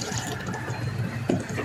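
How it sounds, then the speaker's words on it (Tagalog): A little water poured into a pot of molokhia during home cooking, a short soft splashing and trickling fill heard close up, alone without talk. "maglagay ako ng konting tubig"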